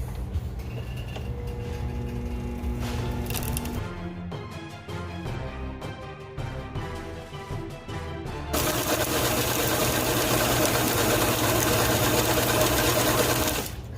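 A spooling machine winds 150 lb Texas braid line onto an Accurate 80 reel, giving a rapid, steady mechanical whirring and clatter that thins briefly in the middle, then returns louder and denser, with no voices.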